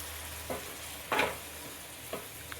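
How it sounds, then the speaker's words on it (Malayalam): Chicken ghee roast masala stirred in a hot pan over medium-high flame, a soft low sizzle broken by a few distinct spoon scrapes, the loudest near the middle, close and without voices. "വീണ്ടും നന്നായിട്ട് ഇളക്കുക."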